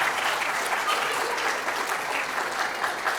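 An audience at a Lads to Leaders event claps steadily and evenly for the puppet team, with a faint crowd murmur underneath throughout.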